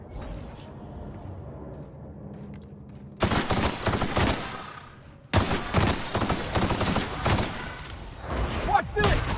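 A legendary gun fires in The Outer Worlds, with dense bursts of rapid gunfire that break out abruptly and run loud and sustained, pausing briefly before starting again.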